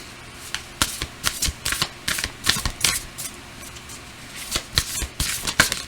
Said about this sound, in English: Now I'm going to pull a card from the universe.